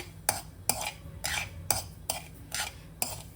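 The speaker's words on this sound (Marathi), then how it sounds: "भगर भाजून घ्यायची आपली हलवत राहायचं सारखं" Bhagar (barnyard millet) dry-roasting in a pan is stirred constantly. About six distinct scraping strokes repeat in a steady rhythm, close and fairly quiet, with no talking.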